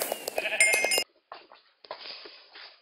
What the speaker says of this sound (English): Ah, our sheep.